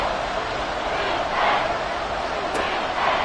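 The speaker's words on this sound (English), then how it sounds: "The crowd getting into it as we come up on a big 3rd down." Stadium crowd in the Madden 24 football game building up before a big third down, a broad roaring cheer that swells and ebbs under a commentator's voice.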